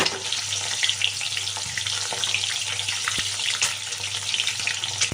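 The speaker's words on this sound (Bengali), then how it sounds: "খুব বেশি ভাজতে হবে না একটু তাও ভালো ভাজা হয়ে গেছে একটু দিচ্ছি একটু নাড়াচাড়া করে তুলে নেব" Boiled eggs sizzle steadily in hot oil for an egg korma while being stirred in the pan, with a low hum underneath and occasional sharp clinks.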